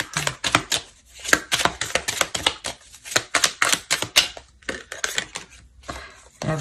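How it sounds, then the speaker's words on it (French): A deck of tarot cards being shuffled by hand, giving quick clustered papery clicks and flutters in irregular bursts with short pauses between them. "Et je mélange le jeu."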